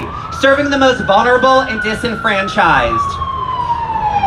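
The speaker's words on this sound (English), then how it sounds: "Oh, that's a fire truck." A fire truck siren wails loud and close, sweeping up and down as it passes along a Los Angeles street during a march, with a speaker talking over it before the wail fades.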